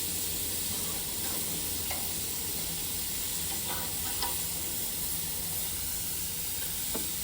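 Garlic chilli prawns sizzle in a hot pan, a bright, constant hiss filling the whole span with a few light clinks and scrapes of stirring, close and even in level, no voices.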